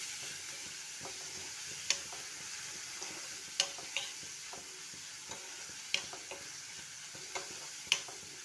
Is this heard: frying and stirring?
yes